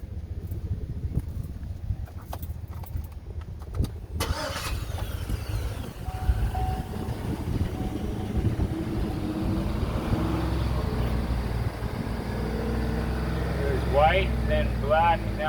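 A Chevy Suburban work truck cranks and fires up after sitting about ten minutes, settling into a steady rumbling idle, with a voice talking over the engine.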